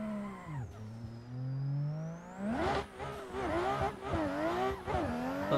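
Comp-spec drift car in a racing sim at Long Beach: a steady engine drone, then a sharp rev climb into wavering, bouncing revs with tire squeal as the car slides, loud and continuous with no talking.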